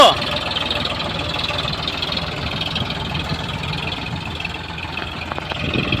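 A tractor engine runs steadily during sowing in the field, a continuous low rumble that stays fairly even throughout, with some faint background voices.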